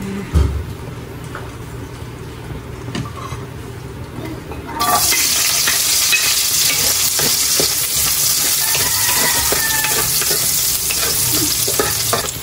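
Century tuna with a little pepper hits hot cooking oil and bursts into a loud, steady sizzle. Stirring and clinks sound first, then frying takes over abruptly and carries on close up to the end without a break.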